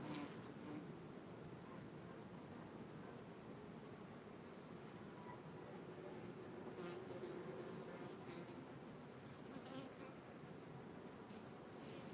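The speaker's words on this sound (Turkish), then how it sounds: "Arı vızıltılar geliyor mu size?" A bee buzzing softly and continuously close by, a faint steady drone that holds without a break, with no talk over it.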